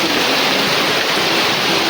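Heavy rain pours down loudly and steadily while a Konark Gananatya jatra troupe's vehicle is loaded, a dense, unbroken wash of rainfall close by.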